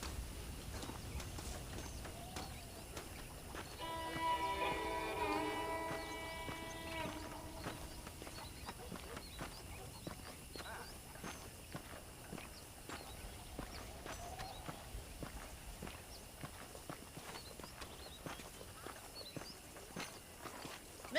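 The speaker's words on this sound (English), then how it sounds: "Ahí está el caballo de guerra." Horse hooves clip-clop steadily at a walking pace in Red Dead Redemption on PS5, a war horse plodding with faint ambient game sounds and a brief tonal musical passage early on.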